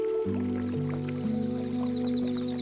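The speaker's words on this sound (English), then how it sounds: "Nearby, someone quietly pours another cup of tea." Tea is poured into a cup as a steady liquid stream, its pitch climbing in steps as the cup fills, close and gentle beneath a soft ambient background, with no talking.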